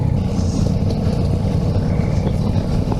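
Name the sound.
Ducati Multistrada 4S motorcycle engine riding off-road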